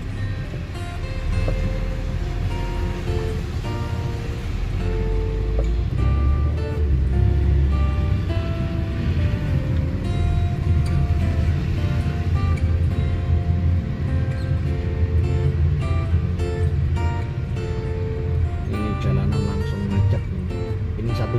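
Slow-moving traffic jams a road in Medina after heavy rain, a dense continuous rumble of engines and wet road noise with a few faint tonal notes and voices now and then.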